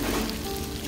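Beef tripe grills on a tabletop at a Korean restaurant, giving a brief, close, steady sizzle with a constant hiss and no clear voice.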